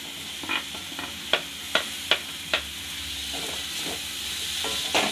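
Onion and capsicum are stirred into a hot pan for a chhena curry, giving a steady sizzle with several sharp scrape-like knocks of a spoon against the pan, close up and without talk.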